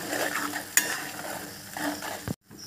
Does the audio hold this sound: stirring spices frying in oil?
yes